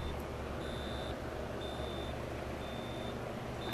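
Faint, high electronic beeps from a Micronta 63-813 alarm clock with a fault, repeating in a slow, even pattern over a steady background hiss.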